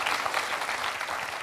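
A studio audience on a French television quiz show applauds a contestant, a steady wash of clapping at moderate volume with no break.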